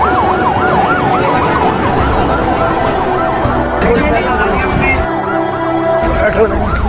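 Ambulance siren wailing loudly and nearby, a fast warbling yelp repeating steadily amid traffic noise, with talk over it.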